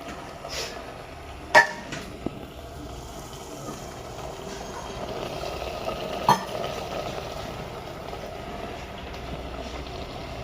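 Capsicum being stir-fried with Maharashtrian stuffed eggplant (bharli vangi) in a pan. A low, steady sizzle and scrape runs throughout, broken by two sharp utensil clanks.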